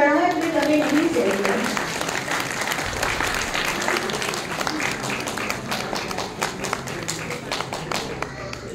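A crowd claps steadily at a temple ceremony honouring kar sevaks, held at Lal Sai temple to mark the Shri Ram temple consecration. The dense clapping fades gradually while a voice talks over it.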